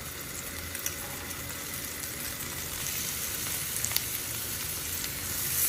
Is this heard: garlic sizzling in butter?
yes